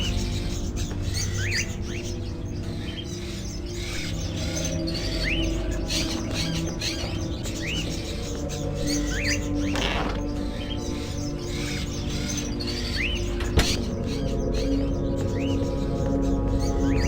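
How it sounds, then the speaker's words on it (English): Crows kept in cages inside an old house in the video game Indigo Prophecy, heard as repeated chirps and calls over a dense, steady ambient bed, continuous throughout with no speech. "Are those crows in the cages?"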